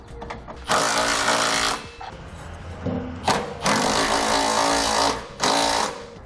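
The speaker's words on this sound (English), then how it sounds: "we can now use a 3/4 inch socket to snug it all down" A power tool with a 3/4 inch socket snugs down trailer hitch bolts on a 2015 Dodge Journey in loud whirring bursts of about a second, separated by short pauses.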